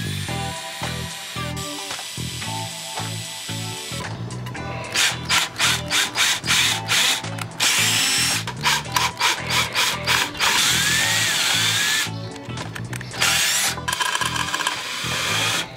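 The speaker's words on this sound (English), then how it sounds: "I'd have to drill the mounting holes" Power drill boring mounting holes in the battery tray of a 1976 Honda CB550 during a wiring rewire, with repeated loud, close whining bursts of drilling separated by short pauses.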